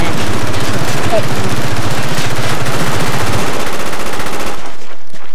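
Rapid, loud AK-47 automatic fire in the Wii version of Call of Duty Black Ops online, bursts of close clipped shots filling most of the clip before cutting out abruptly near the end.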